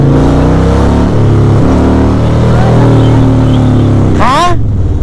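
Big-engined Harley-Davidson motorcycle idles loud and close with a deep, throbbing harmonic rumble, then revs sharply upward in a quick rising burst near the end, with voices audible underneath.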